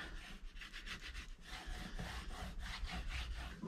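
Paper being burnished down onto a journal hard cover, a steady dry rubbing and scraping with rhythmic back-and-forth strokes, close and continuous with no talking.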